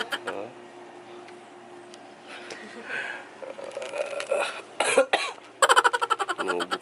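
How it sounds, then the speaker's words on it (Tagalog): A person coughs at an overnight beach resort in Batangas, several short, sharp bursts clustering in the latter part amid quiet background and faint voices. "Inuubo pa rin."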